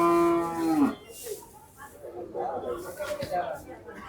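A cow at the busy Gabtoli cattle market in Dhaka lets out one loud, close, drawn-out moo, followed by a murmur of people talking and market bustle.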